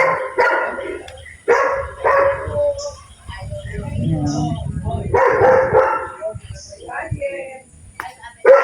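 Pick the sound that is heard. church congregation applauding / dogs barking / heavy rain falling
dogs barking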